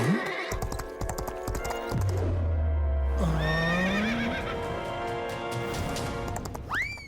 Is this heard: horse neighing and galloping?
yes